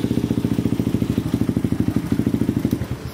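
A Kawasaki D-Tracker motorcycle engine runs close by with a loud, even, rapid thumping beat, steady throughout with no talk.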